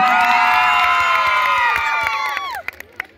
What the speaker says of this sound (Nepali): एकपल्ट आफ्नो लागि जोरदार ताली बजाउनु पर्यो है त